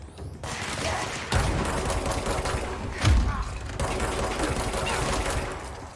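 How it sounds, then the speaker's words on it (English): Gunfire and a heavy thump ring out in the video game Control, with a dense, continuous rattle of shots and a low boom around the middle, loud and close throughout. "Oh, that's a grenade."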